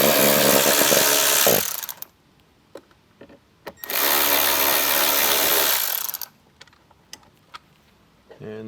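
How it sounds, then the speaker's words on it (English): A power tool backs two screws out of the driver's side speaker of a 2024 Jeep Wrangler: two loud, close bursts of whirring motor, each about two seconds, separated by quiet handling clicks and taps. "Just get these two screws out."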